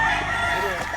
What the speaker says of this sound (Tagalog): Titingnan natin yung mga manok,